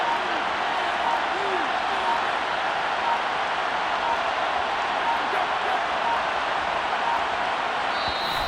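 A stadium crowd at an NFL game between the Tennessee Titans and Los Angeles Chargers roars steadily ahead of a big third down, a dense, continuous wash of cheering with faint game sounds beneath.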